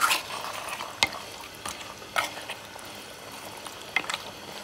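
Beef is stirred and sautéed in a clay pot, with a few scattered scraping knocks of the spoon against the pot over a soft, low sizzle.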